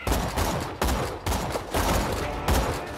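Rapid bursts of gunfire in Borderlands 2 in several volleys, loud and close, with brief gaps between the strings of shots.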